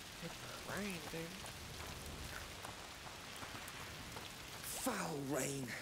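Continuous rain in the video game A Plague Tale: Requiem pours steadily beneath short bursts of voiced sound, with the downpour staying even and moderately loud throughout.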